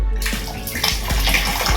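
Tap water running steadily in a public toilet block with squat toilets and buckets, a continuous close splashing rush with a few soft knocks.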